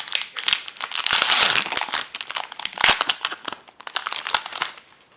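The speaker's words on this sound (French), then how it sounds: "Ensuite, on va ouvrir un autre booster Deoxys." Crinkling and tearing of a Pokémon Deoxys booster pack's foil wrapper as it is ripped open, a dense run of close, loud crackles and crunches lasting several seconds with short pauses.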